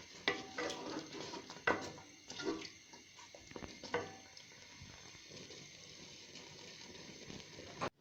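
Pumpkin halwa roasting in desi ghee in a pan, stirred with a spoon: scraping and clinking strokes come close and fairly loud in the first few seconds, then ease into a quieter steady sizzle with a sharp knock at the very end.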